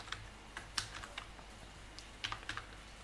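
Fingers tap out code on a computer keyboard in quick, uneven bursts of light clicks, close-up and alone, with short pauses between runs of keystrokes.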